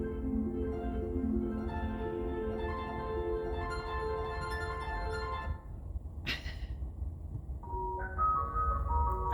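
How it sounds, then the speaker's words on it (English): An ice cream truck's tinny electronic jingle plays a continuous looping melody. It breaks briefly with a sharp click partway through, then resumes on a new phrase. No talking. "Ice cream truck."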